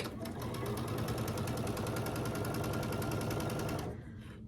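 Sewing machine stitching quilt fabric strips together, a loud, fast, even needle rattle running continuously for about four seconds before stopping abruptly.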